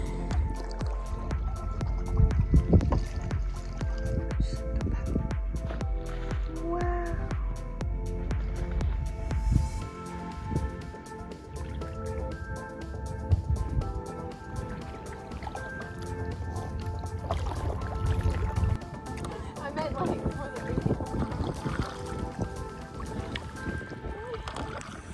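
A kayak moves through water at Tomoka State Park, Florida, with dripping, splashing paddle strokes and squishy liquid sounds, close and irregular throughout, over a continuous background murmur.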